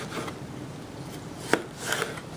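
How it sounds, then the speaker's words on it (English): Knife slicing bell peppers lengthwise into thin strips on a cutting board, with a sharp cut near the middle and a couple of softer strokes toward the end, close and moderately quiet. "I'll take those peppers, slice them this way, and then just slice them long ways"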